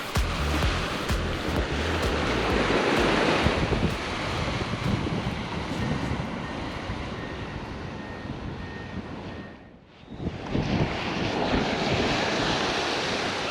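Strong wind and breaking surf on a beach during surf fishing, a steady, loud roar of wind and crashing waves that briefly drops away near the end before surging back.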